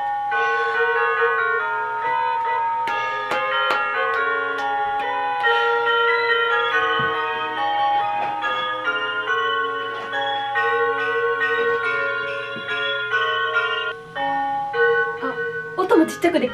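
A small electronic Christmas decoration plays a bright, chiming music-box style Christmas melody, steady and fairly loud, with a low steady hum underneath and a brief clatter near the end.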